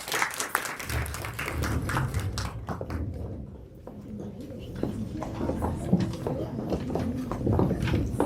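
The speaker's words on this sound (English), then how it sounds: "So one more round of applause." Audience applause at a media industry summit panel, dense sustained clapping from a room full of people, steady and fairly loud throughout with a brief dip midway.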